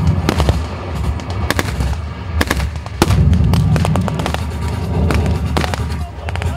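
Gunfire and artillery from a WWII battle reenactment, with fascist infantry backed by artillery and tanks, crackle as dense rapid bursts of shots and loud booms, continuous and close throughout.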